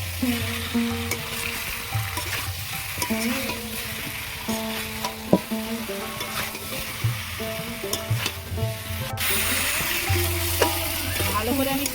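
Green jackfruit curry sautéing in a pan for a vegetarian dish, a steady sizzle throughout with repeated scraping stirs and occasional utensil knocks, close and fairly loud, with light background music.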